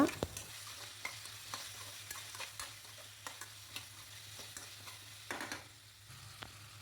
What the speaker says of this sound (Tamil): வேக வச்ச பலாக்கொட்டையும் சேர்த்து நல்லா மிக்ஸ் பண்ணி விட்டுருங்க.